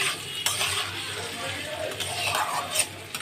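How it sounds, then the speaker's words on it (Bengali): Mung dal and vegetables being stirred in a pot, with a spoon scraping and clinking against the metal in quick irregular strokes over a soft sizzle. "এবার একটু নাড়াচাড়া করব।"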